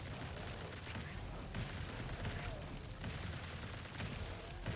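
Rapid weapon fire crackles continuously in the video game Grind Survivors, a dense, quiet stream of overlapping shots and small blasts with no pauses.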